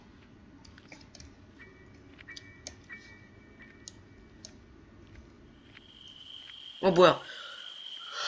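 Insects chirp in the Granny horror game, thin repeated buzzy chirps scattered over a low ambient hum, then a louder burst of noise as someone speaks briefly.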